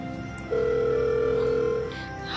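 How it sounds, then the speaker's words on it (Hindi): A steady electronic telephone tone sounds for over a second amid faint background noise, like a call failing to go through. "नंबर तो लग नहीं रहा है"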